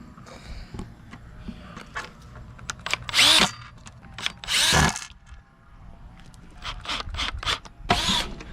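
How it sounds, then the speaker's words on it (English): Power drill driving screws into a plastic seat on a Seamax Ocean 380T inflatable boat: several short whirring bursts of varying length, close and fairly loud, separated by quiet handling clatter. "the power drill is much easier to use for these"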